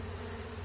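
Honey bees buzz at their hive in a continuous low, even drone, faint and without breaks.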